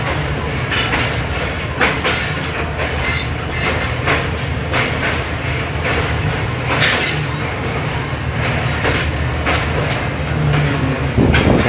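Tezgam Express passenger train running from Karachi to Lahore, a loud continuous rumble heard from onboard with rail clatter and occasional clicks throughout, close and steady.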